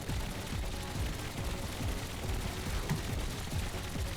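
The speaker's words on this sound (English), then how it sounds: "You can see the rows of linear cannons up front there. E will activate those." Rows of linear cannons on a helicopter in the video game Trailmakers fire in a fast, continuous stream of dense, punchy shots that stay loud and steady throughout, with no talking.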